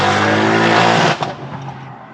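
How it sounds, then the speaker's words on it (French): A tuned car engine, stage 2+ with 570 hp, revs hard and then drops off throttle with a sharp crackle of exhaust pops, loud and close over about two seconds. "Ah j'adore moi quand je relâche les gaz et que ça pète dans tous les sens."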